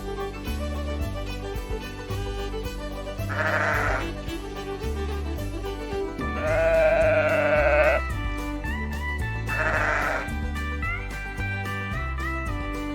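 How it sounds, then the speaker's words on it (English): Sheep bleat three times in short wavering calls, the middle one longest and loudest, over a continuous musical bed with no talk. "Sheep."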